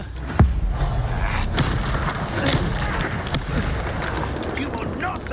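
Incendio fire spell explosions in Hogwarts Legacy gameplay: a dense, rumbling roar of booms and blasts with sharp impacts, loud and continuous throughout, with faint voices mixed in.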